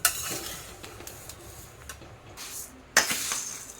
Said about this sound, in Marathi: आता आपण वाडग्यामध्ये काढून घेऊया